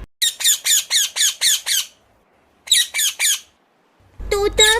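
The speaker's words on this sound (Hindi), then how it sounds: "तोता पानी पीने के बाद जोर जोर से बोलने लगता है।" A parrot squawks loudly in rapid bursts, a run of about seven harsh calls, a pause, then three more, ending with a burst of noisier squawks over low rumble.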